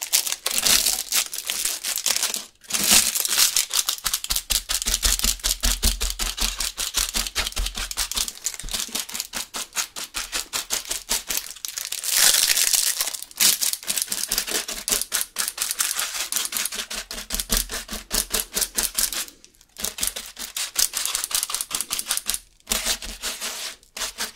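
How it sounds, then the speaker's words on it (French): Plastic bag crumpled and crinkled up close during ASMR spray painting, with dense, crackling bursts that run continuously for over twenty seconds, pausing only briefly a few times. "Je reprends le sac plastique."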